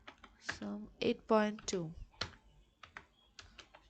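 Soft clicks of typing on a computer keyboard tap out in brief runs, faint beneath a man's nearby speech.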